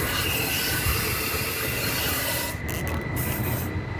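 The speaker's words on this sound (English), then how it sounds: "I'm gonna hose this inside this frame to cover any bare metal that needs coated inside of there" Cavity wax sprayed through a 360-degree wand inside a truck frame makes a continuous close rushing hiss that breaks up briefly near the end, with no talking.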